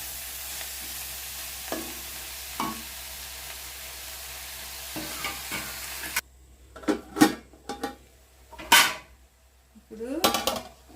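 Sliced onions and coriander frying in a pan give a soft sizzle at first, then clattering stirs and scrapes of a utensil against the pan come in sharp bursts.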